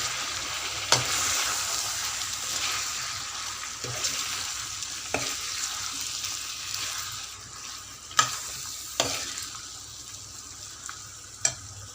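Ivy gourd curry with tomato pieces and turmeric is stirred in a frying pan, a steady soft sizzle broken by a few sharp spoon knocks and scrapes against the pan, close and without talk.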